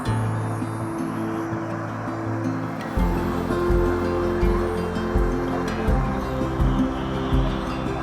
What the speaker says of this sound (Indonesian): Ini kawah yang cukup besar ya, yang di sebelah sini cukup besar dan dengan suara gemuruhnya.